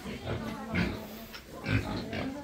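Pigs on a farm grunt and oink in short repeated bursts, fairly close and moderately loud, with a steady low hum underneath.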